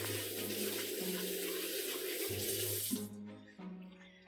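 Kitchen tap water runs steadily into a sink while a mixing bowl is rinsed out after making a coconut festival cake, a constant splashing stream that cuts off near the end with a few drips.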